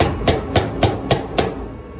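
A small hammer taps five times at an even, steady pace while a retaining ring is seated on top of the fuel tank of a Ford Crown Victoria LTD with a 302. The blows are close and sharp, with no one talking.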